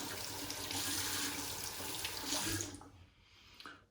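A tap runs steadily into a sink while a face is rinsed during a straight-razor shave, then the flow cuts off and leaves a few small splashes and drips. No one speaks.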